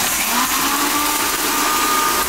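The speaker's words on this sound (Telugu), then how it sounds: "మళ్ళీ మిక్సీ పట్టుకోవాలి" A kitchen mixer grinder whirs loudly and continuously as it grinds fennel and spices, a steady close motor drone with a harsh rattling edge and no talking.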